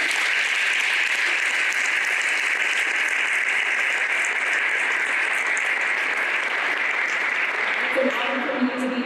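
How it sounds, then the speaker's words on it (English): Audience applause for award recipients at the Golden Hoosier Awards 2024 ceremony, a steady, dense wash of clapping that holds for the whole span, with a few scattered voices rising near the end. "We can give one last round of applause for our awards."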